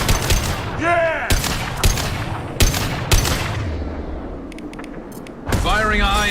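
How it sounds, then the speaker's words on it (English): Repeated high-impact gunshots from the Mass Effect 2 game, sharp loud bursts at an irregular rhythm with short echoing tails, heard over a continuous game soundscape while a person speaks between the shots. "Firing a high impact shot!"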